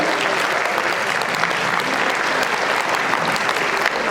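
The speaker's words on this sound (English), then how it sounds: "another round of applause for our outstanding people who've given so much to our association." A dense round of audience applause fills a Hall of Fame luncheon room, loud, continuous and even from start to finish with no voices over it.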